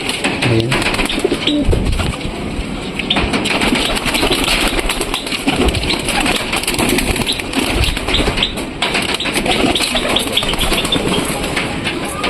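Pigeons spilling out of an opened loft, a steady dense chatter of birds with coos, wingbeats and rustling that stays close and fairly loud throughout, with no talking.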